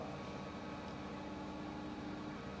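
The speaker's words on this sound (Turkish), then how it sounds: "Karşıdaki inşaata mikser geldi bu arada." A concrete mixer truck at a construction site across the street gives a steady, distant mechanical drone that holds unchanged throughout, low and continuous, with no speech.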